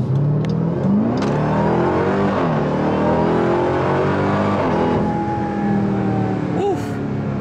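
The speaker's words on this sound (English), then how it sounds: "just hear that hint of a supercharger whine" Dodge Durango Hellcat SUV engine revving under hard acceleration, a loud steady roar that rises and falls in pitch with a thin supercharger whine on top, heard from inside the cabin.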